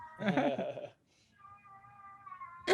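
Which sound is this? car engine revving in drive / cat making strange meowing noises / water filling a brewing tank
cat making strange meowing noises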